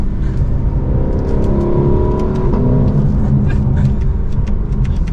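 Lexus car accelerating, a loud close steady engine drone and road rumble with light ticking noises on top, sustained for several seconds without speech.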